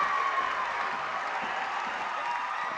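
Crowd at a boys high school basketball game in a gym, a steady broad roar of cheering and applause that holds evenly throughout at moderate loudness.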